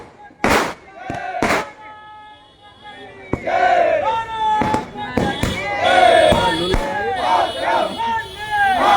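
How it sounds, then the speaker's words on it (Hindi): Fireworks crackle and bang in sharp bursts amid a loud, cheering crowd celebrating the Chandrayaan 3 moon landing in Haldwani, with whistles and shouts over repeated pops. "तो आप देखें यहाँ पर आतिशबाजी यहाँ पर हो रही है"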